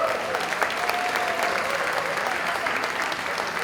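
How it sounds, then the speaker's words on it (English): Audience applause fills a business awards luncheon, a steady wash of many hands clapping at even loudness throughout, with no voices over it. "You can clap it up for that"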